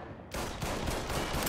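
Dense gunfire from a firefight in Mafia III, starting after a brief quiet moment and continuing as a loud, continuous barrage of overlapping shots and bursts.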